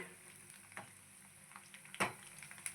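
Green chilli chicken pieces roasting in a pan over a low flame give a soft, steady sizzle, quiet and close, with a few sharper crackles and pops breaking through.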